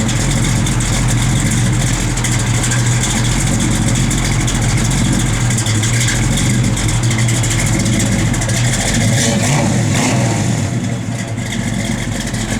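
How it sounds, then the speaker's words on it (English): Big-block V8 in a 1969 Chevrolet Camaro SS revving and idling, a loud, steady deep rumble with swelling throttle blips throughout, close by and without talk. "Good sounding big block."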